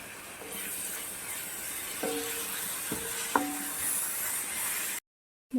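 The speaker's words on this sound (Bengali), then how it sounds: "পেঁয়াজের সঙ্গে রসুনটাকেও ভালো করে ভাজতে হবে" Garlic frying with onions in a pan: a steady, soft sizzling hiss with a few brief scraping clinks from stirring, then a sudden cut to silence near the end.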